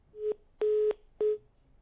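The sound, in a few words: telephone line dialing while trying to connect a caller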